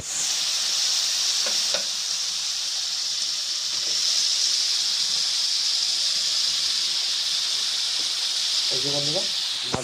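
Fish pieces hit hot oil in a pan for Bengali fish curry, setting off a loud, continuous sizzling hiss that holds steady throughout, with a few faint clinks and a brief voice near the end.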